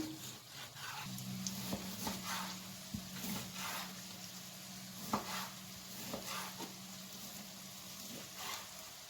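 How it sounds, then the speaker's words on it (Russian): Low, steady sizzling of onion frying in fat in a pan for pilaf, with occasional clinks and stirring knocks scattered throughout; no talking. "Пока обжаривается лук, я займусь мясом."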